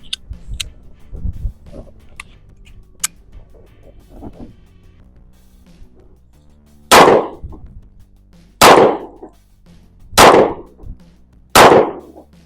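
Four loud, sharp pistol shots from a Diamondback DB9 Gen 4 9mm, fired about every one and a half seconds at close range after a stretch of quiet handling clicks.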